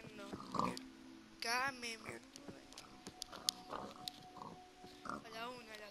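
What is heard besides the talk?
zombie pigmen grunting in Minecraft, video game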